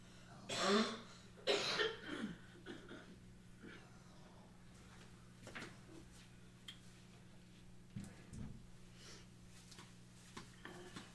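A person's cough, two loud bursts near the start followed by fainter throat noises and a quieter cough around the eighth second, indoors with a low steady hum underneath and no speech.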